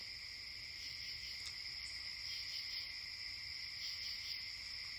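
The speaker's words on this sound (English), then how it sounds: "But you can hear all the lovely crickets." A continuous chorus of crickets trilling steadily, a high unbroken drone with faint background hiss and no talk.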